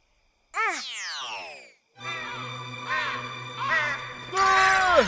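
Crows cawing at night in an animated cartoon scene, a few harsh, drawn-out caws in succession, loud and close, with a tonal background underneath.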